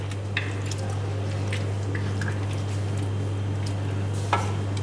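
Chicken and chili being stirred in a pan for ayam masak cili api gives soft, wet squishing and scraping with light sizzle, steady throughout over a constant low hum, with no talking.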